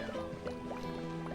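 Dog splashing into water in the Genshin Impact video game, a brief watery gurgle and plop with a few bubbly drips, close and fairly quiet over steady game music.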